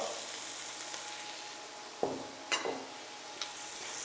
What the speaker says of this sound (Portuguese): E vou dar uma fritada nele aqui agora, porque aí vai soltar esse fundo da panela